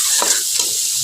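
Sweet potato greens hit a hot pan of fried onion, garlic and green chili, giving a loud, steady hissing sizzle with a couple of stirring pulses, close and continuous.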